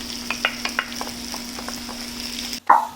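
Onions being stirred into hot beef fat in a pan for a Zimbabwean beef stew, giving a steady close sizzle with soft scraping stirs and a louder burst of frying near the end.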